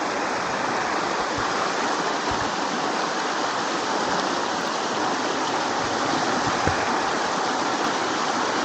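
A hillside stream rushes at a water crossing on a Scottish Munro walk, a loud, steady broadband roar of flowing water that continues unbroken from start to end.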